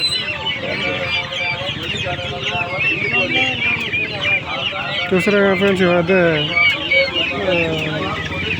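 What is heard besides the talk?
chickens clucking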